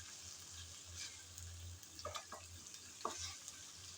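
Chicken being stirred in a pan while cooking for a bottle gourd curry, with soft scraping strokes and a couple of sharper clinks over a quiet, steady background hum.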